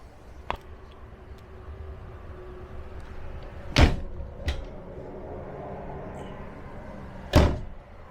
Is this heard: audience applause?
no